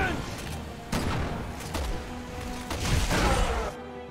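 Gunfire rings out in the video game Resident Evil 6, several sharp shots and bursts hitting one after another over game noise and players talking.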